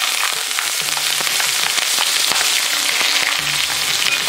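Two large chopped onions fry in a pan for a Kerala camel meat kabsa, with a steady, dense sizzle and crackle throughout, close and loud, with no talking.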